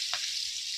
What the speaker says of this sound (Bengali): এখন এখানে তেলের মধ্যে পেঁয়াজ কুচি দিয়ে দিলাম।